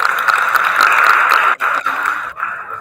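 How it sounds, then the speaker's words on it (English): Audience at an academic chemistry conference in Indonesia applauding, a dense steady clatter of clapping that briefly dips and then carries on at moderate loudness. "Please give applause for Mr. Wahyu Prasetyo."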